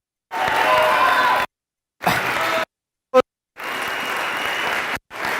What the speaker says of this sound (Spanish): Un fuerte aplauso para César.